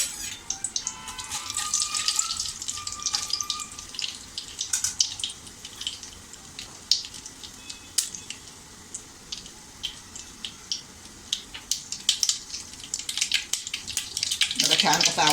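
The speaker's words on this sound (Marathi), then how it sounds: "बघा, छान कसा आवाज येतोय राईचा।" Mustard seeds crackle and pop in hot oil in a pot on a gas stove. Dense, irregular sharp snaps run throughout and grow louder toward the end, with a faint voice briefly in the background.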